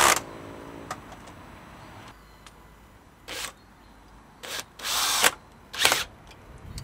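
Power drill driving screws into a wooden cupboard during a DIY camper van build: several close, loud whirring bursts of uneven length separated by short pauses, with no talking.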